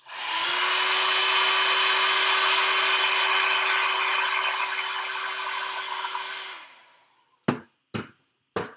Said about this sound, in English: I'm just going to use the dryer for a minute to dry that animal print so I don't mess it up.